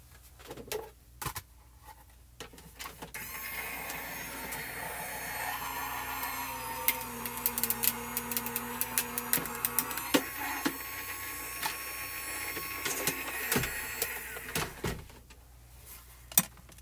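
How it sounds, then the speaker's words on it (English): A die cutting machine feeds a foiled piece through, giving a steady mechanical whir and rolling grind for most of the span, scattered with small clicks and taps, with quieter handling noises at the start and end. "I'm gonna run this piece through my die cutting machine."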